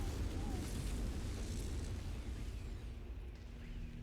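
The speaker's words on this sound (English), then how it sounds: "I have no idea what that explosion was" Explosion in the video game MechWarrior 5, a broad rumbling blast with a deep low-end roar that slowly fades, heard at moderate level behind game noise.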